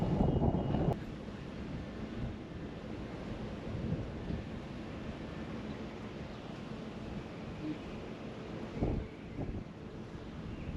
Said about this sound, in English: Yeah, I got a jet.